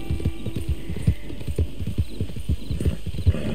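An Arabian horse galloping in Red Dead Redemption 2 gives close, steady rapid hoofbeats with clear clip-clop rhythm over a low hum, with no talking.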